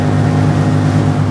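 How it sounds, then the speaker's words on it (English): A 1972 MG Midget with a 1275cc engine rasps out a steady, continuous exhaust note from behind the open cockpit, a low droning hum held at an even level with no voices. "all you can hear when the top's down is this wonderful exhaust note from behind you"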